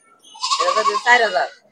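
A goat at a village livestock market gives a single loud, close, wavering bleat lasting over a second, standing out clearly against quiet surroundings.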